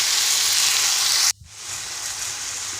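Manathakkali greens sautéing in a pan with a strong, steady sizzle that briefly cuts out and then resumes slightly softer.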